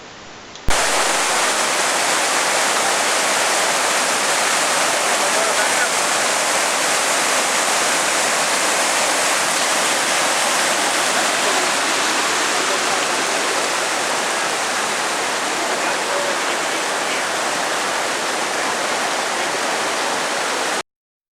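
A loud, continuous rush of falling water at Chasm Falls in Rocky Mountain National Park, steady and broadband from start to finish, with no voices.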